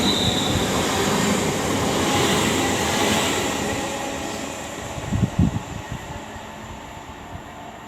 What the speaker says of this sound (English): now arriving is the 1438 cross-country service to Manchester Piccadilly